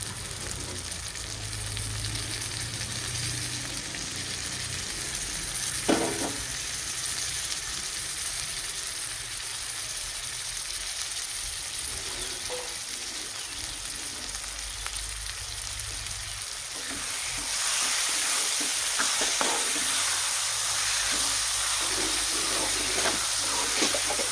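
Liver curry fries in a pan with a steady, loud sizzle and hiss that swells stronger near the end, with faint scraping of stirring beneath it.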